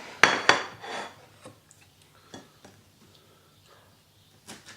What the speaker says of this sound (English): Just going to cut the stalks off.